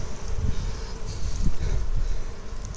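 Honey bees inside a hive dusted with icing sugar give off a dense, continuous low hum that stays close and steady throughout.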